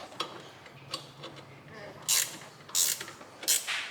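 A puller is cranked to draw the crank pulley off a 2JZ-GE engine on a 1999 SC300, giving faint clicking ratchet ticks with a few sharper metallic bursts near the end.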